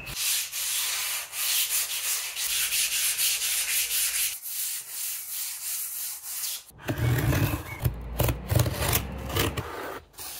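Hand sanding of painted MDF kitchen cabinet fronts with 180-grit sandpaper, close rhythmic rasping strokes that pause briefly midway, then resume in quicker, louder scrubbing bursts.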